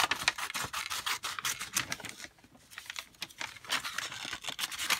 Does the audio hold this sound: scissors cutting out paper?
yes